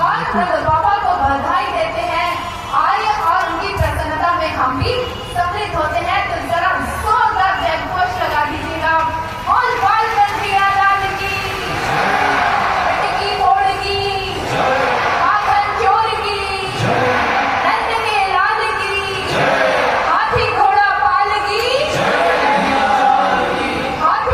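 A huge crowd fills a vast Bhagavat Katha pandal in Sector 43, Noida, chattering and calling out continuously at loud, dense volume, with overlapping voices and occasional shouts throughout.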